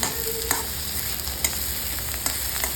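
Onion roasting until blackened in a small pan for a spicy black masala, a steady dry sizzle with a few sharp crackles and scrapes, close and fairly loud with no talk.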